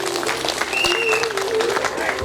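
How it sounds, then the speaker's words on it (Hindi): Audience applause at a Gondi-language devotional storytelling gathering, a steady burst of clapping over a couple of seconds with some crowd murmur mixed in. "ताली बजा दो।"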